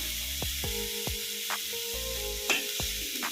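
Banana flower chutney sizzles and fries in a pan while a utensil stirs it, with repeated scraping strokes over a constant frying hiss and a faint tonal hum beneath.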